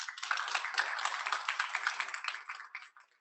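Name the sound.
audience applause for pitch competition sponsor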